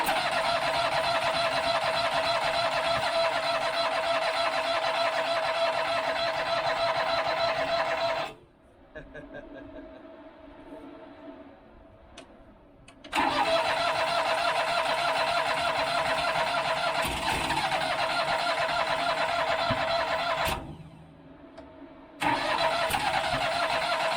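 A car engine cranks and fires up, running at a steady loud idle, cuts out briefly, then restarts and runs again, with a second short drop near the end; no one speaks.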